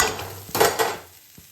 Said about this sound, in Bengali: এবার এটা ঢেলে আমি সবজিগুলো ভেজে নেব।